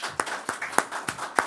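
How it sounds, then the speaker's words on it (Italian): Applause for a provincial councillor of Treviso at a prosecco event presentation, heard as a sparse, uneven scattering of claps with distinct strong beats recurring about every few tenths of a second, moderately near, with no talk. "ho ricevuto 2 applausi anziché 1"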